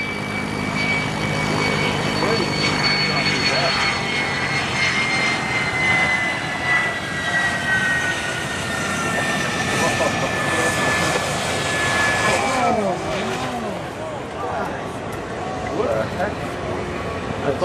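An F-16 Fighting Falcon fighter jet taxis at an air show, a steady loud roar with a high whine drifting downward in pitch, continuous throughout with voices underneath.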